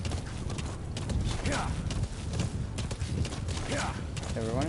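Horse hooves clip-clopping at a gallop in the open-world stealth game Metal Gear Solid V: The Phantom Pain, a steady rhythmic beat over game ambience and music, with a brief whinny near the end and a voice talking over it.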